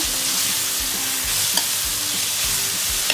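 Capsicum and onion sautéing in a pan for prawn chili, a loud continuous sizzle with rhythmic low scraping thuds of stirring.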